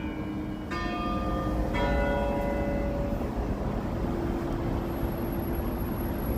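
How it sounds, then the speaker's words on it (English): Church bells of St. James ringing outdoors on a Chicago street in the evening, several clear bell strikes sounding in succession and ringing out over steady traffic and street noise. "Here's the bells of St. James."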